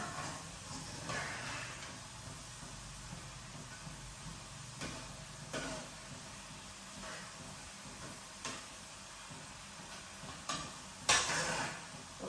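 A spatula scrapes against the bottom of a frying pan while frying potatoes are flipped, giving several short, sharp scrapes over a steady sizzle, with one louder clatter near the end.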